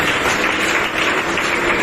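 A church congregation claps together in praise of God after a prayer of deliverance, a dense, steady wash of many hands filling the space at full volume for the whole stretch, with no voices rising above it.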